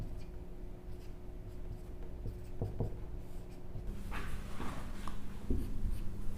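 Chalk or pen writing a matrix on a board during a maths lesson, soft scratchy strokes with a few tapping marks, moderately close over a steady hum, with no talking.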